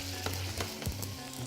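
Chopped onion frying in a pan sizzles steadily as a splash of white wine goes in, a brief soft crackle with a few sharper pops and stirring scrapes.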